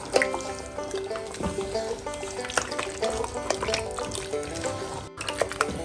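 Chicken pieces for biryani sizzle in hot oil in a pot, with crackling and splattering bursts and some clinking, continuous and close.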